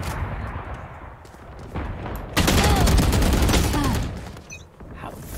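Gunfire in the video game Valorant comes as loud, dense rapid bursts that swell and fade over a few seconds amid rumbling game noise.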